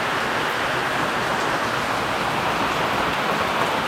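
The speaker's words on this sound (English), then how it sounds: "So then there's the rain," Steady rain pours down during the Bali rainy season, a dense, even hiss holding at the same level throughout without pauses or voices.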